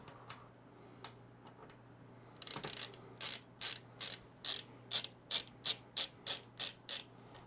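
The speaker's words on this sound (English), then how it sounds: "I just screw them in enough to get them started" AIO cooler mounting screws turned by hand on an iBuyPower tower give a quiet run of soft ticks, then a steady series of a dozen crisp, evenly spaced ratcheting clicks close by, growing slightly louder toward the end.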